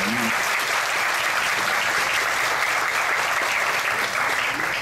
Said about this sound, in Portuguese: o Oscar, uma salva de palmas para ele